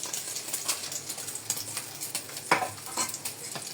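Bangus (milkfish) frying in a pan, giving a steady close crackling sizzle with scattered sharp pops and spatters, no voices over it.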